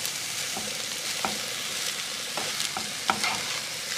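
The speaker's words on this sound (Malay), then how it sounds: "meletup-letup dalam kuali ni" Rice sizzles and crackles steadily in a hot wok while being fried, with occasional sharper pops and scraping stirs over the continuous frying hiss.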